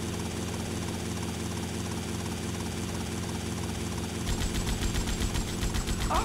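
Helicopter in GTA Vice City, a steady droning engine whine with rotor noise, the blades' rhythmic chopping growing louder and more pronounced toward the end.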